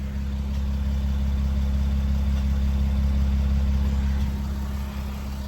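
A Mercedes Sprinter van engine with an aftermarket exhaust idles steadily with a deep, rumbling drone, close and constant throughout, with no revving.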